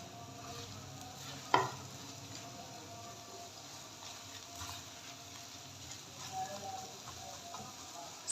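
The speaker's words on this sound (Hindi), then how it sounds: "स्पैचुला की मदद से हम इसको बिल्कुल छोटे छोटे पीसेस में डिवाइड करेंगे" Egg bhurji gets stirred and broken into small pieces with a spatula in a pan, a faint soft sizzle with one sharp clink of the spatula and a few light scrapes.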